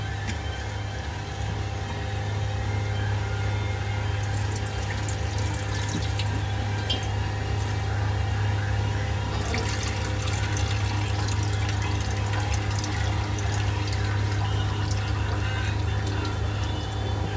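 Steady running water from a tap splashes continuously over Bombay duck fish being washed, with occasional soft knocks and rinsing sounds, close by and without any talking.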